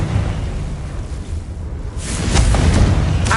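A Confringo fire blast spell goes off in Hogwarts Legacy, a heavy booming burst with rumbling low end that swells again with a second whooshing impact partway through, loud and close.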